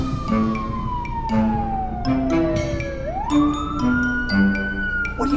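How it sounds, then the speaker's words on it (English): An ambulance siren wails on a divided highway, its pitch sweeping down then back up as it passes, loud and continuous over road rumble and a repeated lower tone. "There's an ambulance."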